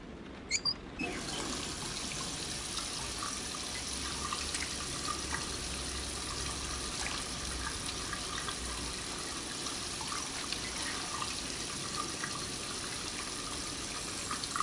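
Running shower water in the video game Heavy Rain, a steady hissing spray that starts abruptly and carries on unbroken at moderate, close level with no speech over it.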